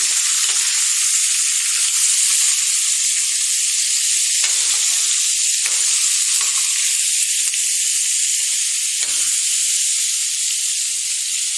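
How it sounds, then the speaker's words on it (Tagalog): Fish sizzles steadily in a hot pan of oil, a loud, continuous frying hiss, with a few soft scraping bursts as it is stirred. "Haluin natin."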